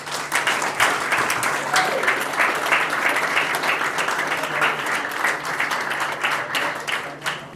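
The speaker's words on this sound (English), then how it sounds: "can we have a big clap and a round of applause for Jack Randall?" An awards night audience at a football club event gives a loud, sustained round of applause for an award winner, with dense clapping and a few crowd voices underneath, fading slightly toward the end.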